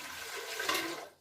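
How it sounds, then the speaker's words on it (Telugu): Water pours into an idli steamer pot, a steady splashing rush lasting about a second before it tapers off, close and alone with no talk. "water పోయలేదండి, water పోసుకోవాలండి"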